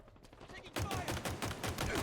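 Halo Infinite multiplayer gunfire, a rapid automatic burst that starts suddenly after a quieter stretch and keeps a regular stuttering rhythm, fairly loud, heard over game announcer voice lines.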